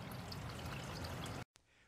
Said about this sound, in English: A 29 by 15 inch polypropylene plastic tank is filled about halfway with